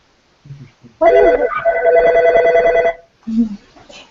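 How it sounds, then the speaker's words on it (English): A telephone rings loudly in a room during a podcast recording, one sustained electronic ring of about two seconds, with brief talk just before and after it. "Someone's phone's ringing."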